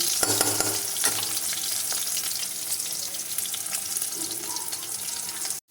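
Potatoes frying in oil for a pork curry, a steady broadband sizzle with occasional stirring clatter throughout, close and fairly loud, ending abruptly.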